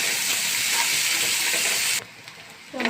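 Chopped onions hit hot oil in a pan where fish was just fried, giving a loud continuous sizzle that cuts off abruptly partway through, followed by a brief quiet and a faint clatter.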